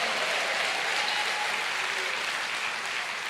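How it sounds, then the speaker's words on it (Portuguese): A church congregation bursts into loud, sustained applause during a sermon, a dense wash of clapping filling the room with no speech on top. "Pode dar uma salva de palmas, vai lá bem alto"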